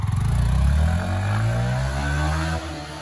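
A 2023 Yamaha R15 V4 BS6 motorcycle engine revs up close, a throaty mid-pitched burst that settles into a steady drone as the bike moves off, fading slightly near the end.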